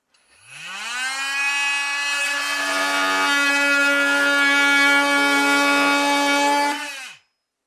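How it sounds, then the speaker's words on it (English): Kobalt 24V Gen 2 oscillating multi-tool cutting into clear white pine, a loud sustained buzzing whine that spins up, holds steady for several seconds while cutting, then abruptly stops. "now we're going to try to cut the corner off this piece of what is now about approximately a 1x3 piece of clear white pine"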